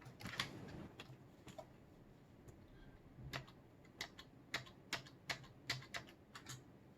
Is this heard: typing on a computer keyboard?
yes